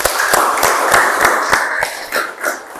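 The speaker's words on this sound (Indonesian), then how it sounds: "Mari kita memberi tepuk tangan untuk kita semua." A small group claps at the close of a university lecture session, roughly a dozen distinct, loosely timed claps over a hissy background, fairly close and loud.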